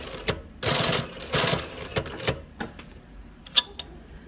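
Protex alternating walking-foot sewing machine with a large hook and servo motor stitching in bursts, with needle-down stop: two longer runs of rapid mechanical clatter, then shorter stitch bursts and a few sharp clicks, close and clear.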